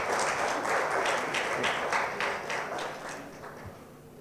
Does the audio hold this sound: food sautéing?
no